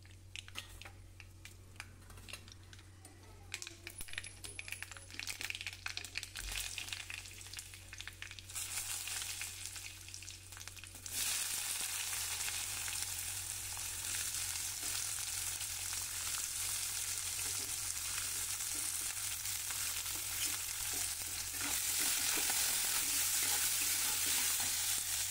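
Oil sizzling as onion, tomato, curry leaves, cumin and mustard seeds temper in a pan for a Maharashtrian bhindi dish, a steady frying hiss that grows louder and brighter partway through, with faint stirring.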